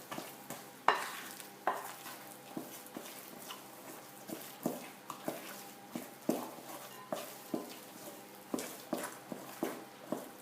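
Banana bread batter and flour are stirred and lifted in a baking bowl, giving a steady rhythm of soft, wet, squelching strokes roughly every second, close and fairly quiet.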